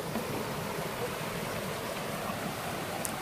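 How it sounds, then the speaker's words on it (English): Waterfall at Sipi Falls in Uganda, heard as a continuous, even rush of flowing water that fills the whole clip with no voices. "Man, there's a waterfall up there."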